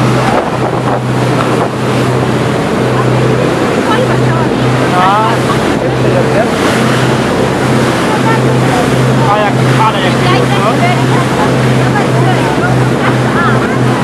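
A motorboat off Iceland crosses waves, its engine droning steadily beneath wind buffeting the microphone and water splashing against the hull, while people talk over it.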